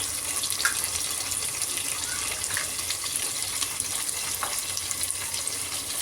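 Curry leaves hit sautéed onions frying in a pan, bringing a steady, close sizzle and hiss throughout, with faint scattered crackles and no speech.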